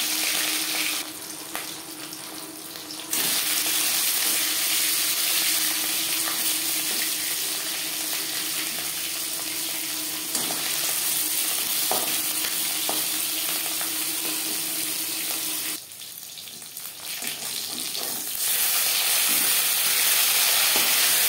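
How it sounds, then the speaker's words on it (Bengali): Marinated fish sizzles in three spoons of hot refined cooking oil, a loud, continuous crackling hiss that briefly softens before picking up again, with no voices present. "3 চামচ রিফাইন্ড অয়েল গরম করে নিয়েছি। এবার দিয়ে দেবো ম্যারিনেট করে রাখা মাছ।"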